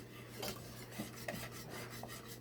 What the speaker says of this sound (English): just whisk, whisk, whisk, whisk